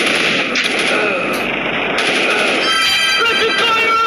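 Gunfire in a shooting video game: a loud, continuous stream of rapid machine-gun bursts fills the stretch, dense and close, with a sustained rattling character.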